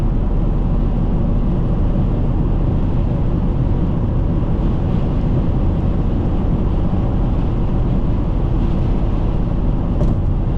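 A 2023 Toyota GR Corolla Circuit with a manual gearbox and a turbocharged three-cylinder engine pulls hard from inside the cabin, a loud, continuous engine roar with road noise throughout.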